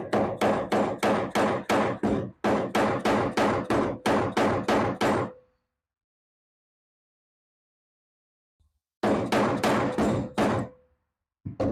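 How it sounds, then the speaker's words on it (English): Rapid, evenly spaced dead blow hammer taps on a 1950s Ford 8N tractor ring out in two bursts, then a long silence, then another quick run of knocks, crisp and close. "I'm just going to take a dead blow hammer. I'm just going to lightly tap"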